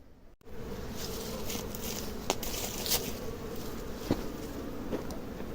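A dense, steady hum of many honeybees buzzing around a hive nearby, constant throughout, with a few faint clicks and knocks.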